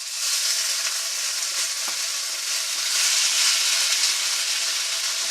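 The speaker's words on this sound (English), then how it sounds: "you can see it releasing and just popping away from the pan" Teriyaki pork cubes fry in a hot pan, giving a steady, close, loud sizzle with dense crackling pops throughout and no voices.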